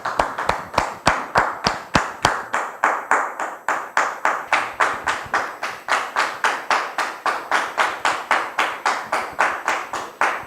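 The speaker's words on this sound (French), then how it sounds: "nous puissions la recevoir ici sous des applaudissements bien nourris" Audience applause welcoming a female guest onto a French-language Christian talk show set, a steady run of fairly close, rhythmic hand claps, loud and continuous for about ten seconds with no talking over it.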